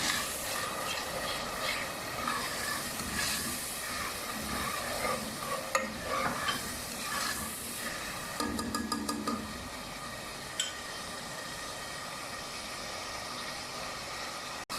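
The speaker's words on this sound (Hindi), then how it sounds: "अभी मैं इसमें एक प्याज डालने लगी।" Coarsely crushed onion fries in a pan for a spiced chana dal with bottle gourd, giving a steady, close sizzle with a few brief clinks from stirring near the middle.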